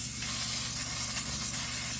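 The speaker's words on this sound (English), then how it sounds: "I'm going to be using my butter cooking spray" A can of butter cooking spray hisses in one continuous, close burst, steady and fairly soft, while greasing a pan for chocolate chip cookie bars.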